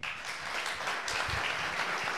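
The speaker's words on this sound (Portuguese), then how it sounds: "eu peço que nós o saudemos com uma salva de palmas" Steady applause from an audience at a Pentecostal church gathering in Brazil, welcoming guest Dr. Harold Hunter; dense, continuous clapping fills the room at even loudness without voices.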